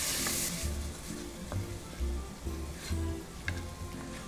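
Finely diced whole onion sizzles in a pan over a browned crust at the bottom, a steady close frying hiss broken by regular stirring scrapes, with no speech.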